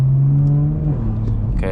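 A tuned 500HP BMW 440i engine revs and drops pitch through a gear shift, with a steady droning note falling in steps and a few sharp pops and crackles near the end, loud and close, with no talk.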